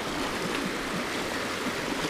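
Creek water in Buffalo National Forest rushes steadily over rocks, a continuous close broadband flow with no voices.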